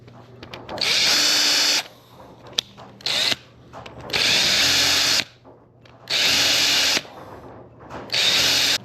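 A power drill runs slowly in reverse while working wood for a fishing rod stand, sounding as four loud, close whirring bursts about a second long with quieter gaps between them.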